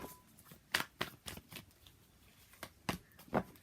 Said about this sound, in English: let's pull some more cards from universe